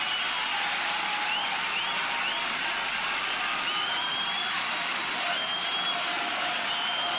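A concert crowd cheers and claps in a sustained wash of applause with distant whistles, steady and fairly faint, as if heard from a live recording far back in the hall.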